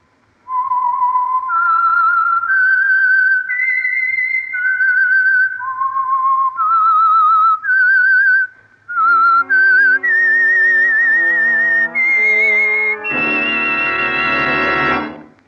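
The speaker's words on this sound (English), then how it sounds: "the signal to listen for is this whistle that identifies the Signal Oil program" The whistled theme of The Whistler, the Signal Oil mystery radio program: a lone, clear melodic whistle carrying a rising and falling tune, ending in a held, brassy orchestral chord.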